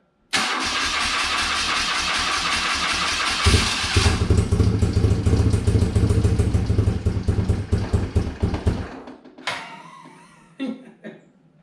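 A classic BMW car engine cranks and fires, then revs with a rough, pulsing throttle that stutters down after several seconds into a few fading sputters, loud and close in a shop.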